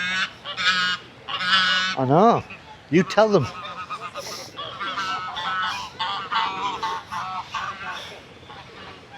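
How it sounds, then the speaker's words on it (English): Loud honking of several geese in Rosario, Argentina, repeated harsh calls overlapping one another, with a person speaking briefly among them. "a lot of geese honking and not moving"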